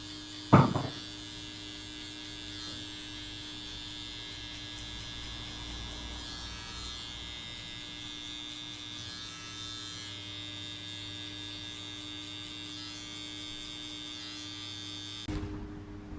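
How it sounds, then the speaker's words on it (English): Electric hair trimmer clearing a guideline during a high skin fade, giving a steady mains-like buzzing hum that runs continuously at moderate level, with a sharp click near the start and another near the end. "That's what I'm using my trimmer to remove this guideline here"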